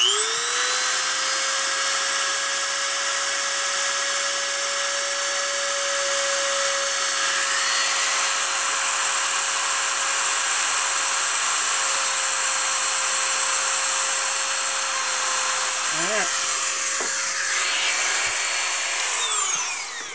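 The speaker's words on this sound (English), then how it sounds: "So I'm going to go ahead and drill my hole." A small power drill runs steadily for about twenty seconds, boring a hole in an N scale hand-laid model railroad turnout, with a constant whining motor tone and brief bumps near the end before it winds down.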